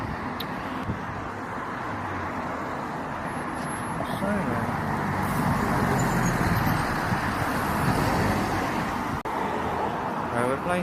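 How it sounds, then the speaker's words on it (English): Rail replacement bus passing along Barrack Road or Christchurch Road, a broad engine and tyre rumble that swells louder through the middle and fades, with traffic noise and people talking nearby. "I think that was railway replacement bus service to you and me."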